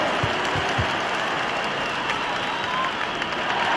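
A video-game arena crowd in NBA 2K20 cheers and applauds after a home-team basketball victory, a dense, continuous wash of clapping and crowd noise at steady loudness.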